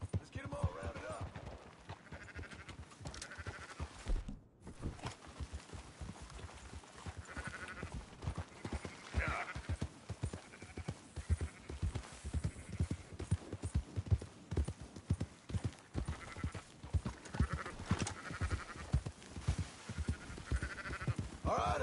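Sheep bleat repeatedly in the open-world game Red Dead, with steady clip-clop of horse hooves as the flock is herded. The mix stays busy and fairly loud throughout.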